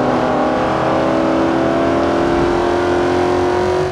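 Street-race cars in Forza Horizon 2 on Xbox One, including a 302 Foxbody, roar at a loud, continuous close-up engine drone whose pitch climbs gradually under hard acceleration.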